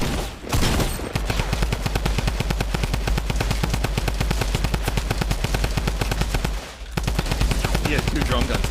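Rapid, sustained drum gun fire in Fortnite, dense automatic bursts running nearly the whole time with a short pause near the start and another before the end, loud and close.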